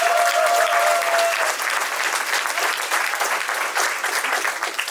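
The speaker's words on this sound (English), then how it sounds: "give yourself a round of applause" Audience at a community re-entry program graduation gives a sustained round of applause, even and dense throughout, with no voices over it.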